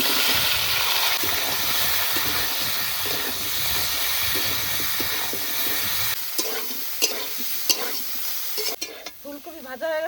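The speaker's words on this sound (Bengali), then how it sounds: "মাছ ভাজা তেলে ফুলকপি ভেজে নেবো।" Cauliflower pieces frying in oil already used for fish, a loud continuous sizzle and hiss that carries on steadily, then quietens, with a few scrapes of stirring near the end.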